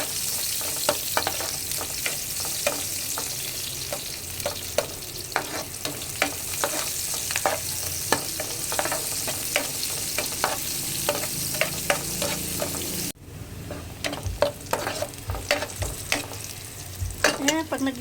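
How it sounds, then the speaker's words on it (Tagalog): Onions and dried shrimp are sautéed in a pan, a continuous close sizzle with rapid, repeated spatula taps and scrapes, briefly dropping in level partway before the stirring picks up again. "gisa lang natin ng maigi"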